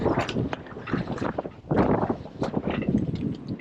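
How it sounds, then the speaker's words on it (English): A sailboat's mainsail luffing and flapping in strong wind, with steady loud rushing wind noise and fluttering canvas filling the whole stretch. "Mainsail is luffing."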